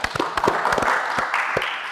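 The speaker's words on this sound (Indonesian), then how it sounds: "Tepuk tangan." A studio audience at a Catholic parish talk show gives a short burst of applause for a pastor, with a few sharp, separate claps close by.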